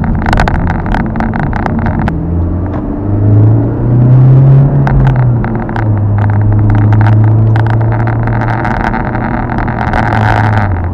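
A Honda Civic Type R engine drones while the car is driven through tight turns. The engine note climbs and falls under heavy road and wind rumble, loud and continuous from inside the car, with no talking.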